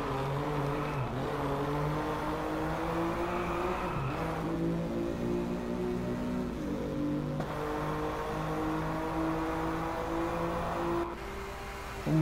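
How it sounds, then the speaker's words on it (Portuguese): A BMW M4's S55 3-litre biturbo inline-six, heard in a driving game on a race track, revs and drops through gear shifts in a sustained, loud engine drone with rising and falling pitch, no voices. "Motor 6 cilindros em linha da família S55, a versão modificada da L55."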